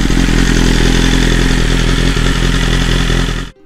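A 2020 BMW S1000RR fitted with a new exhaust idles loud and close, a deep steady burble laced with crackling pops, before the engine cuts off abruptly near the end.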